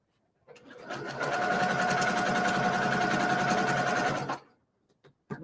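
A sewing machine stitches a quilt block in one continuous, fast whirring run of about four seconds, close and steady, then stops, followed by a couple of brief clicks.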